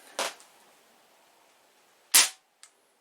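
A Crosman 1377 air pistol, pumped five times, fires two sharp, loud pellet shots across a chronograph about two seconds apart, the second followed by a faint mechanical tick.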